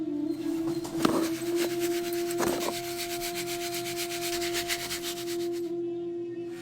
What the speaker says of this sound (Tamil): அதையும் ஜல்லடையில வச்சு சலிச்சு எடுத்துக்கலாம்.